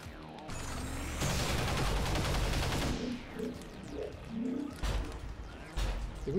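Gunfire in the turn-based strategy game XCOM 2, played on Nightmare difficulty, rings out as a loud dense burst of shots lasting a couple of seconds, followed by scattered impacts and softer game effects.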